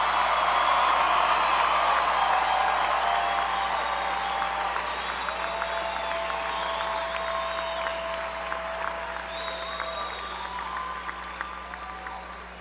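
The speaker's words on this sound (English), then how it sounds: "One more round of applause." Sustained applause from a large commencement crowd honoring Angelo State University's Class of 2017, a dense wash of clapping that swells early and gradually tapers, with a few faint whoops scattered through.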